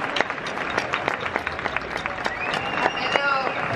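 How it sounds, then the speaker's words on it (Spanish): An audience at a comic convention panel in Madrid bursts into applause, a dense patter of many hands clapping that swells toward the end, with a voice speaking over it. "Wynonna Earp, Pedro Tena, un fuerte aplauso."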